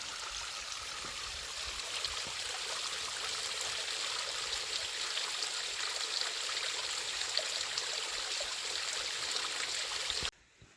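A small mountain stream on the Appalachian Trail in Georgia trickles and splashes steadily, a soft continuous watery hiss heard up close, then it stops abruptly.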